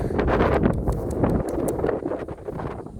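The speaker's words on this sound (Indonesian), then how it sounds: "angin kencang guys" Strong wind buffets the microphone in loud, continuous gusts, with rustling and roaring noise throughout and no voices.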